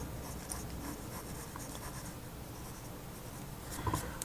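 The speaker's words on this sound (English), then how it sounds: "let's go ahead and draw in these other lines" A pencil draws lines on paper for a manga face tutorial, producing close, soft continuous scratching strokes that run throughout, with a slightly louder rustle near the end.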